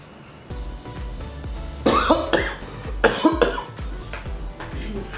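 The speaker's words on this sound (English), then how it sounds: "Gosh, I'm coughing." Several harsh, close coughs in quick bursts, with a bit of throat clearing between them.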